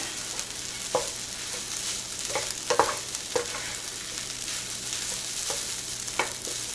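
A spatula scrapes and tosses fried rice in a hot sizzling pan, with steady frying hiss under irregular clacks of the utensil against the metal, close up and without talk.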